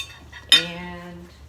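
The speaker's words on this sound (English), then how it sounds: "first I'm going to take out the orange slices and they are just falling apart" A utensil strikes the inside of a crockpot once with a bright, ringing clink while lifting out soft, falling-apart orange slices cooked with pork carnitas, then the tone fades into quiet.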